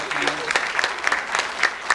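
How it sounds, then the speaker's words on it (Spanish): Audience at a lecture on the history of taxes clapping in a short round of applause, scattered sharp claps close by with a voice speaking over them. "quisiera pedir un fuerte aplauso por mi hijito, Saúl Fernando."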